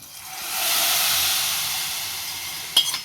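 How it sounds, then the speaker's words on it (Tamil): Hot spice tempering poured into a chicken curry, meen kulambu style, with Kashmiri chili powder, erupts into a loud steady sizzle that swells quickly, holds and gently fades, ending with a few clinks. "இப்போ நம்ம தாளிச்சாச்சு இப்போ இதை இதில் ஊற்றிடுவோம்"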